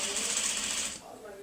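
A sewing machine stitches across a bulky quilt-top seam in a fast, buzzing run for about a second, then stops, leaving a voice speaking quietly afterward.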